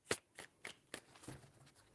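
Tarot cards are shuffled by hand in a quiet room, giving sharp riffling bursts in an uneven rhythm with short pauses between them, close and fairly soft.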